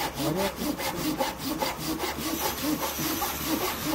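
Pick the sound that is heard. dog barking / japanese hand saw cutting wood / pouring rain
japanese hand saw cutting wood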